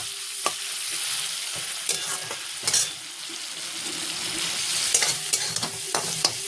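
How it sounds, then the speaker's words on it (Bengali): Spice masala with tomatoes is stir-fried in a pan: a steady sizzle runs throughout, broken by sharp scrapes and clinks of a spatula at irregular moments, close and fairly loud, with no speech. "এগুলো ভালো করে কষা করি মশলাটা প্রায় কষানো হয়ে এসছে"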